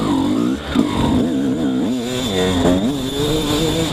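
Motorcycle engine fitted with a Keihin 38 carburetor revving hard, its pitch climbing and wavering in strong rising sweeps, loud and close throughout with no talking.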